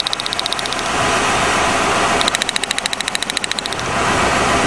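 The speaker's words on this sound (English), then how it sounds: "Notice the sound in the engine?" The engine of a 1997 Lincoln Continental runs steadily with a loud, rapid mechanical ticking or clicking that comes and goes over the rumble, recorded up close with no speech.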